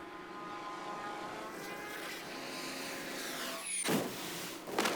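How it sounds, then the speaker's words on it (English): Propeller torpedo bombers approach in the naval game World of Warships, a droning aircraft engine growing steadily louder over a few seconds before a sharp burst near the end. "here come the torpedo bombers again"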